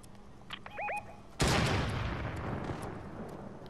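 Gunfire in the Fortnite video game: a couple of faint synthetic chirps, then one sudden loud shot that rolls off into a long, decaying rumble.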